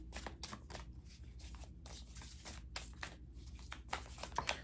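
Tarot cards riffle and slide in a quick, quiet burst of papery flicks and shuffles, close and soft, with no talking.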